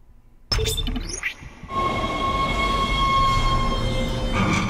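A tram in the video game Dead Space rumbles into motion with a low mechanical drone, accompanied by a steady electric whine and faint metallic clinks as it picks up speed.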